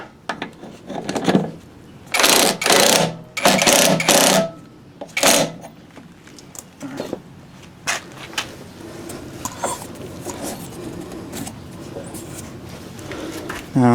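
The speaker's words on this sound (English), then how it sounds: "get my 1/2 inch impact drill" A 1/2 inch impact drill tightens a nut on a Honda HR21 lawn mower, giving several loud, close bursts of whirring and rattling hammering, each lasting under a second, separated by quieter handling noises.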